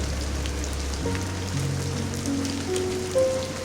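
Steady soft rain patters evenly over vineyards as a constant hiss, with faint tonal hum and a few thin sustained tones gliding in the background.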